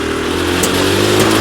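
A mini jeep off-road vehicle's engine revs hard and steadily as it climbs, loud and close, with a continuous droning roar and no talk.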